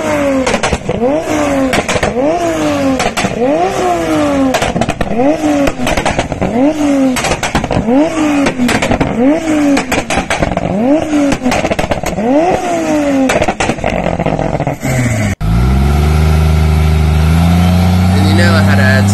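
A car engine revs hard again and again in rhythmic surges while tires screech through a burnout, loud and close, before a deep rumbling idle.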